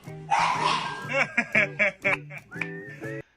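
A dog lets out a rapid string of short, sharp barks up close, five or six in a row, right after a burst of noisy human vocalizing.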